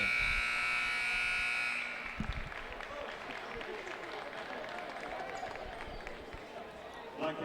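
A long, loud electronic buzzer sounds at the end of the first half of a girls' high school basketball game, then stops and gives way to crowd noise and a commentator talking.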